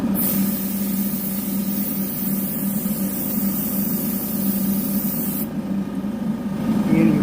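An airbrush sprays paint onto the roof of an N scale Walthers model barn kit, giving a steady, close hiss that runs unbroken for about five seconds and then drops to a softer hiss.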